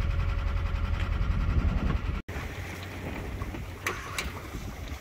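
Steady wind roaring past a sailboat heading for the Pontine islands off Italy, loud and continuous broadband rush with low buffeting, briefly cutting out midway before resuming.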